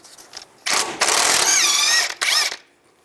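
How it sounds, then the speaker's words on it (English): A ratchet with a 22mm socket spins a castle nut off a tie rod end on a 2005-2015 Nissan Xterra, making two loud bursts of rapid mechanical clicking close by, with a brief pause between them. "Use a 22mm socket, take the casting nut off."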